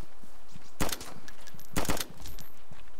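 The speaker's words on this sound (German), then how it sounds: "Ich habe drei Schuss gemacht, weil der erste daneben ging." Two sharp, loud gunshots from the video game DayZ Standalone, spaced about a second apart, each a short broadband crack standing out against a steady low background.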